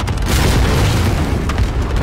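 A loud, sustained airstrike explosion in Call of Duty: Warzone, a heavy continuous boom with deep rumbling low end that fills the whole moment without talk.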